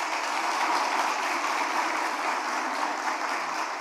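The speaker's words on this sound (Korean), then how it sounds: "다시 한번 크게 박수해 주시기 바랍니다" Steady broadband applause from a church congregation during an ordination ceremony, sustained and even for the whole stretch with no voices over it.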